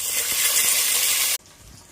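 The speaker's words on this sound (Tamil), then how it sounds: "அது கூட கொஞ்சம் போல் இஞ்சி பூண்டு பேஸ்ட்," Ginger garlic paste sizzles in hot oil with onions, cinnamon, cloves and green chillies for ghee rice, a loud, bright hiss that cuts off abruptly, leaving a quieter background.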